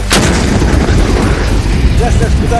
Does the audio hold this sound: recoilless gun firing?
yes